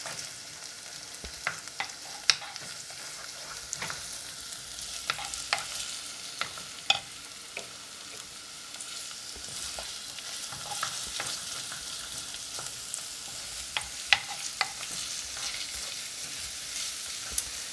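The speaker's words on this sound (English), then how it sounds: "let's go ahead and stir this thing up" Minced garlic stirred in a Korean clay pot for silken tofu soup, a steady close scraping and shuffling over a soft sizzle, with scattered sharp clicks of the utensil against the pot.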